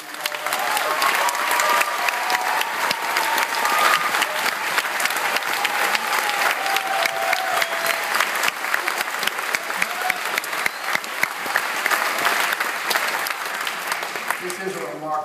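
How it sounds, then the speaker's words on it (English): An audience at a high school applauds steadily with sustained clapping that fills the room for about fifteen seconds, with faint voices in the crowd. "Let's give them a round of applause."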